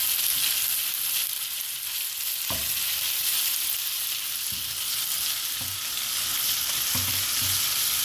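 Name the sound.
chicken pieces frying in a pan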